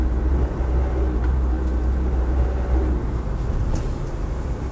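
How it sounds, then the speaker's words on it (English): A Land Rover Defender 90 300Tdi at standard ride height on road-bias tyres cruises down a road, giving a steady low rumbling drone of engine and tyre noise inside the cab. "Truck just rolls down the road really quite happily."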